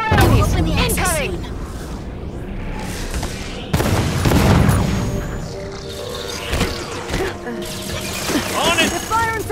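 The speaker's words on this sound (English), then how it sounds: "They're firing from that barricade!" Bursts of gunfire come from a barricade during a firefight in Halo 5: Guardians. The shots arrive loud and close in rapid volleys, with booms and mechanical clatter, and shouting voices overlap the action.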